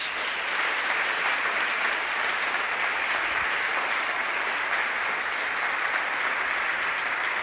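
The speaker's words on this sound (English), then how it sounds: "Let's give a big round of applause" A steady, sustained round of applause from an audience at a student awards announcement, evenly dense clapping throughout with no voices over it.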